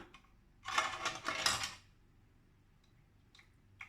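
A brass lamp is lifted out of an opened pressure cooker, giving a single burst of metallic clattering and scraping against the pot, followed by quiet with a couple of faint clinks.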